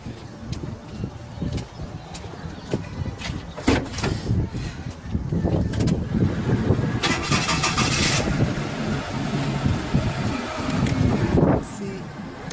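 A car engine cranks and catches, then settles into a low idle that runs beneath someone talking, with a few clunks and rustles nearby.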